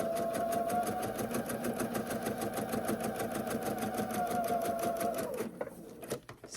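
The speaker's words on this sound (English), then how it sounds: "Sewing along our edge here." A sewing machine runs steadily as it stitches along a fabric edge for quilting, its fast rhythmic whir holding at one pace for about five seconds before stopping with a few soft handling clicks.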